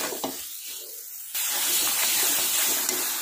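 Masala paste with ground nuts and tomato paste sizzling and frying in a pan, a broad hissing crackle that jumps suddenly louder and stays steady and close, with faint stirring.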